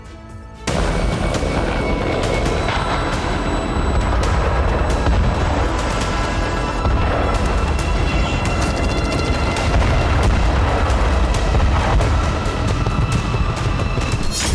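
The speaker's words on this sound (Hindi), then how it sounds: "जहां रूसी सेना ने यूक्रेनी सैन्य ठिकानों को रॉकेट लॉन्चर से हमला कर ध्वस्त कर दिया" Continuous heavy battlefield din from Russian rocket launcher strikes on Ukrainian military positions near Pokrovsk, with dense rumbling booms and crackling blasts that start abruptly and stay loud for the whole stretch, with no voices.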